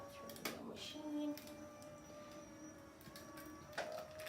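A Sizzix die-cutting machine pressing Bigz dies through sandwiched material, heard as a faint, low mechanical grinding and creaking with a couple of soft clunks, quiet and close.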